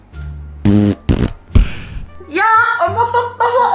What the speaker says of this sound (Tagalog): Umutot pa sa kadiri.